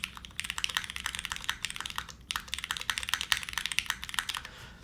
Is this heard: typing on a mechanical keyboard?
yes